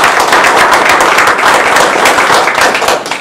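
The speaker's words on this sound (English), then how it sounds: "Let's give them a big round of applause." Loud, dense applause from an audience honoring contest participants at a Toastmasters Table Topics event, sustained clapping throughout without pause.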